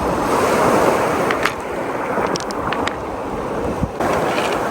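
Water washing over stones on a shore, with a steady surf-like wash, gusts of wind buffeting the microphone and a few brief sharper splashes.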